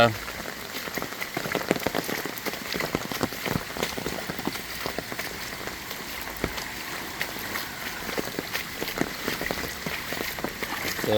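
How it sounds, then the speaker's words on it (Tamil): Steady rain pattering on a hard surface in Jaffna, Sri Lanka, a dense, continuous hiss of drops with no voices heard. "மழையும் பெய்யும்"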